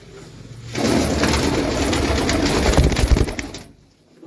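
A flock of pigeons coos together, loud and close, in a steady murmuring chorus lasting a few seconds. The pigeons include a black one.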